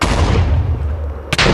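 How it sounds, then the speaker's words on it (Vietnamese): A bow fired at crystals in Minecraft sets off a loud, booming rumble followed by a sharp, close blast just before the end. "mình sẽ dùng cái cung này mình bắn mấy cái quả cầu này"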